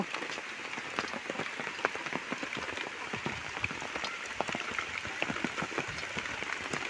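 Steady rain falls on surfaces during a moto trip to a waterfall near a temple. It is a dense, even patter with scattered sharper drops and no talking.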